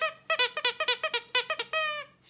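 A tiny, soft squeaky plush pet toy squeaks in quick bursts, about a dozen sharp, close squeaks in uneven rhythm ending in one longer squeal, alone without talk.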